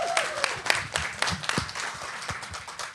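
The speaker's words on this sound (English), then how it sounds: "Can everyone give them a round of applause?" Audience applauding at an inaugural celebration presentation, a brief burst of scattered claps with some crowd noise in a hall, moderately loud for a few seconds.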